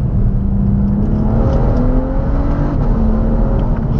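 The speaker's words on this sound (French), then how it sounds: "Écoutez-moi ça, elles sont à l'échappement" BMW 135i with a 340 hp engine accelerating hard in manual mode, its exhaust rising steadily in pitch through a loud, continuous run with no talk over it.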